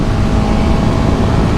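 A 2021 KTM 1290 Super Duke R motorcycle engine pulls hard in third gear, a loud, continuous low growl that holds steady throughout with no break.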